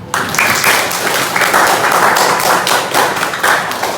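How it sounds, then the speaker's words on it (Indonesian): A school class claps together loudly and steadily for about four seconds, with a rhythmic pulsing clatter of many hands. "mari kita berikan tepuk tangan untuk semuanya"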